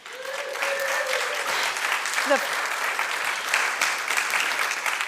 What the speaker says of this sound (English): here's something we're going to have applause about